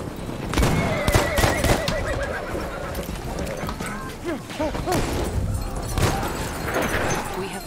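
Horses in the video game Battlefield 1 neigh and whinny repeatedly up close amid clip-clopping hooves and scattered gunfire, with someone talking over parts of it.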